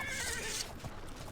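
A horse in the video game Oblivion lets out a loud whinny that rises and trails off, with soft clip-clop hoof sounds and game ambience beneath it.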